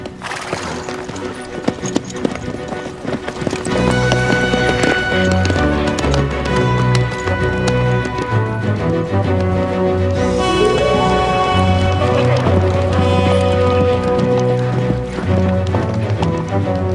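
Several horses gallop with a loud, continuous clatter of hooves. A neigh rises briefly over it, and music plays throughout.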